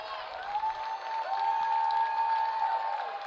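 A high school football crowd roars and cheers in the stands during a night game, a dense, steady wash of crowd noise at a distance with a sustained whistle-like tone running through it.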